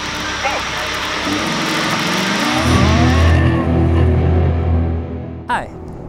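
Tilt Pro racing quadcopter with a 3D printed carbon fiber frame takes off and flies, a loud rising motor whine that climbs and sweeps in pitch, with people speaking over the start.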